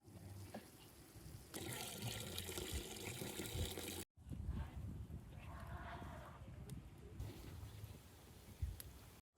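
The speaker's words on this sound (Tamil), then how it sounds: "அதனால் 4 படி தண்ணி ஊற்றுறோம்" Water pours steadily into a cooking pot for tomato biryani in two long streams with a brief break between them, a close, rushing splash that changes pitch as it fills.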